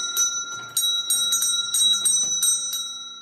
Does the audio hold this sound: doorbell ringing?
yes